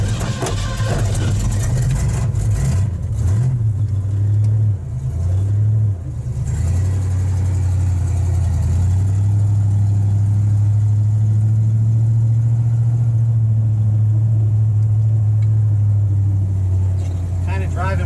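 A Ford Ranchero's engine drones steadily while driving, with a low rumbling tone that wavers as the throttle is worked, dips briefly, then holds a sustained hum under faint cabin noise.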